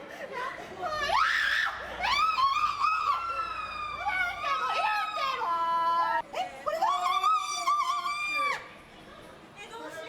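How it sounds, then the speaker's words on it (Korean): Terrified participants in a VR horror experience scream in long, wavering, high-pitched wails that rise and fall, several overlapping cries filling the space, close and loud. "겁에 질린 다른 체험자들의 비명을 끊임없이 듣게 됩니다"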